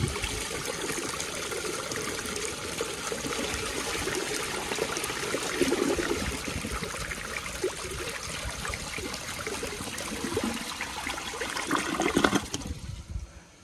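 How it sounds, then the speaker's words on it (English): Flush of a 2002 Sanitarios Maracay toilet with an overfilled tank: a strong, sustained rush of water through the bowl ending in a siphoning gulp, loud and close, then a sudden cutoff near the end. "Wow, that actually had a really nice flush, and even I even made it siphon."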